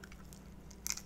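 Chewing on peeled shrimp from a seafood boil, a soft moist bite followed by a brief crunchy squish near the end, close and quiet.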